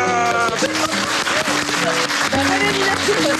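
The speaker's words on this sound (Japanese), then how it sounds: "名付けて勇気の勇気カレー拍手" An audience applauds on a Japanese television segment as a curry dish is presented, the clapping mixed with music and voices throughout.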